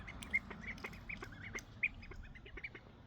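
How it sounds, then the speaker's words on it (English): Ducks quack repeatedly in and around a swimming pool: short, nasal calls come in a loose, irregular series at moderate distance over faint background noise, with no one talking. "The ducks are in the pool."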